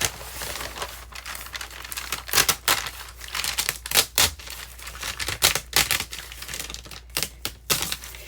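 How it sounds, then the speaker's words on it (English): Perforated packing paper is torn off by hand while making envelopes, a close run of crisp rips and crinkles in irregular bursts, with short pauses between tears and no talking. "I know this one is perforated, so I think I can just tear it off here"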